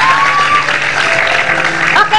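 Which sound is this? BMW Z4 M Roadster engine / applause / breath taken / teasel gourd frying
applause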